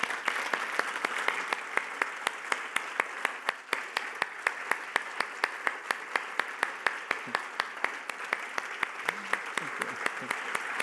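An audience applauds a keynote speaker at a qigong conference, with dense, steady clapping from a large crowd that carries on for the whole stretch at an even level, with no voices standing out.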